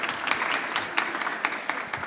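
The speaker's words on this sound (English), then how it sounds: "Round of applause." Audience applause at a London retail and fashion pitch-and-invest session, a steady dense patter of many hands clapping for the full stretch with no talk over it.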